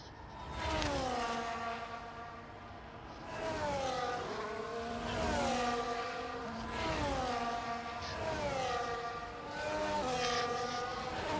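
Several Formula 1 car engines in the F1 24 video game whine and rise in pitch together on the starting grid at Saudi Arabia, overlapping revs that swell and dip repeatedly, loud and steady throughout.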